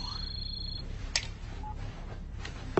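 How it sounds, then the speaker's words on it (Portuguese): A telephone handset in a dubbed suspense film, Alien Raiders: a steady electronic tone for under a second, then scattered clicks and short beeps against a low hum, with no speech. "e vou atender o telefone, tá bom?"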